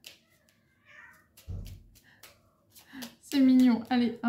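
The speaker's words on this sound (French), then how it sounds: "Les deux chats se parlent maintenant." Two house cats meowing back and forth indoors, short calls growing louder toward the end, with someone speaking at moments and light rustling in between.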